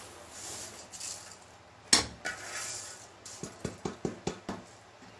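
Sesame seeds being stirred in a pan give off soft scraping and light metallic clinks, one sharp clatter, then a run of quick, evenly spaced taps near the end, all fairly quiet.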